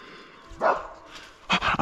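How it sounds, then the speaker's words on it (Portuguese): Dog barking outdoors in a place full of snakes, two short sharp barks about a second apart, close and fairly loud against a quiet background. "Ah, o cachorro!"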